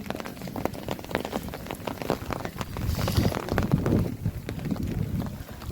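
Light rain keeps drizzling after a storm with hail, thunder and strong wind, a soft, steady patter of drops on surfaces close by, continuous and without voices.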